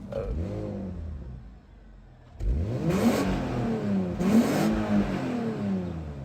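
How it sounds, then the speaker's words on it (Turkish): A Porsche Panamera 4 with about 300 hp launched at full throttle, its engine revving hard and climbing through rising sweeps with a brief shift gap, loud and close from inside the car. "O zaman dip gaz yaptım. Porsche budur be."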